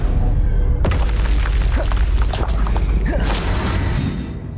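A spell-cast explosion in Hogwarts Legacy: a sudden loud boom erupts, then crackling bursts and rumbling debris fill the rest of the moment before fading slightly toward the end.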